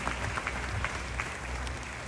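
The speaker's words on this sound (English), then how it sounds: "big round of applause for all of the sponsors here for this evening." An audience at an Asian wedding show in a hotel venue applauds the sponsors. The clapping is steady and slightly muffled and continues evenly through the short stretch.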